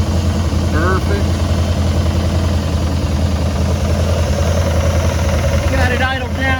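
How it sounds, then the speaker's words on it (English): The V8 of an abandoned 1966 Pontiac Grand Prix idles rough with a loud, close, continuous low rumble and uneven pulsing, and brief squeaky tones appear over it near the start and end. "Got it idled down. It's still running a little rough."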